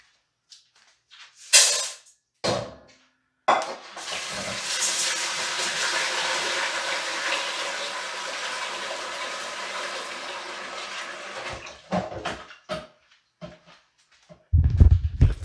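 Sushi rice rinsed under a running kitchen tap, a steady rushing stream of water lasting several seconds, preceded and followed by a few short knocks and handling sounds, close and moderately loud.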